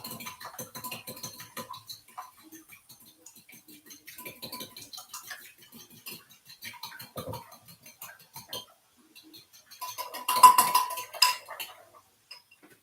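A spoon clinks and taps against a glass while stirring a vitamin drink mix, rapid light ticking in bursts with brief pauses and a louder flurry of clatter near the end.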